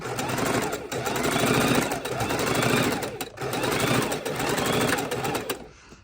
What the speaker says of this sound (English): I'm going to start sewing on this V, go straight across to this V.